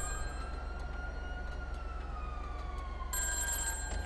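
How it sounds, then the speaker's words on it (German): A telephone rings somewhere in the video game GTA V, giving a sustained electronic ringing tone with wavering, siren-like pitch over a low game-world rumble. The tone brightens near the end, and no one speaks. "Und hier klingelt irgendwo ein Telefon."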